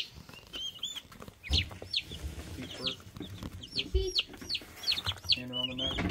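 Turkey poults chirp in a dense, continuous chorus of high peeps close by, with some scuffling and rustling underneath.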